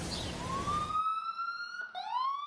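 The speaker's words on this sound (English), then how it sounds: "Out here in the streets, it's nothing but ambulance sirens." Emergency vehicle siren wailing along a New York City street, a rising electronic tone sweeping upward and repeating, loud and fairly close against a rushing street backdrop that drops away midway.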